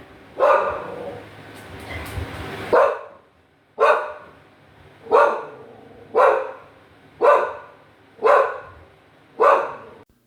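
A dog barks steadily indoors, with a single loud, close bark repeated about every second and a half after a brief noisy stretch at the start.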